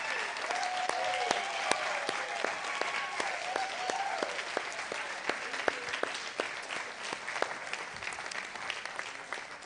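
An audience applauds graduating students in a hall, a steady patter of many hands with sharper individual claps standing out, moderately distant, and a voice briefly speaks over it.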